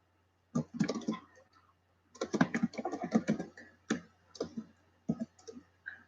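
Bursts of rapid keyboard clicking, close and fairly loud, in clusters separated by short pauses, over a faint low hum.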